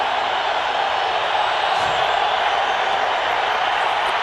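A stadium crowd cheers at a San Diego Chargers football game, a steady roaring wash with no breaks that stays loud and far-off.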